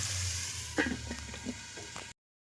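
Potatoes and turmeric powder frying together in a pan for a gourd and snail dish, giving a steady close sizzle with a few soft scraping stirs. The sound runs throughout, then cuts off abruptly near the end.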